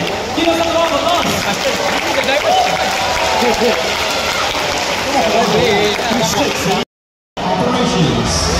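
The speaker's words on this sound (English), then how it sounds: "Give us a round of applause." Audience applause at a navy exhibition in the amphitheater at VivoCity, Singapore, loud and sustained clapping with cheering voices mixed in, briefly cut before resuming.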